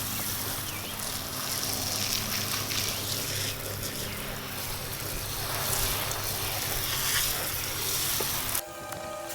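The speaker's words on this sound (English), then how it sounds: "Dry sand doesn't compact very well, so I'm going to get it nice and wet." Water sprays from a hose onto dry sand laid for concrete step forms, making a steady broadband hiss that runs almost the whole time before stopping abruptly near the end.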